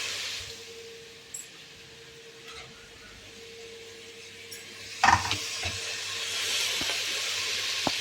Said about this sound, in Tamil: இப்போ சிக்கனை சேர்ப்போம்.